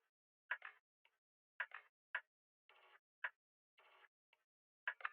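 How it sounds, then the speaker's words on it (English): Percussion loop texture for a dark trap beat: sparse, quiet clicky ticks and short noisy hits in an uneven repeating rhythm, with gaps of silence between them. "So a Perc loop that sounds like this."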